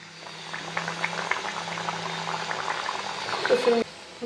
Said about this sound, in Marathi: आता यात मी पुरी तळून घेत आहे आणि एका वेळेस एकच पुरी टाकायची.